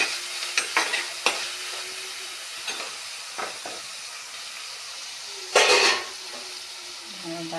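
Stirring in a pan while ingredients fry for Kottayam-style fish curry: scattered sharp scrapes and clacks of a spoon against the pan over a soft hiss, with a louder burst of sizzling near the end.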